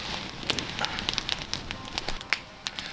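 A campfire at a winter camp in the Scottish Highlands crackles and pops in sharp, irregular snaps over a soft, steady hiss, with no voices.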